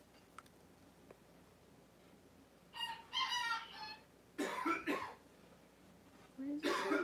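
Chickens in another room of a house give muffled, harmonic clucking calls in three separate bursts over a quiet indoor background.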